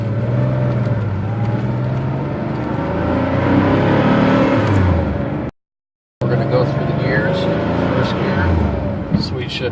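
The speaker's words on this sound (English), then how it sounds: "So downshift's nice, no grinds." Porsche 911 engine and drivetrain running through a clean downshift with no gear grind, a steady loud mechanical drone that cuts out briefly midway and then resumes, with someone talking over it.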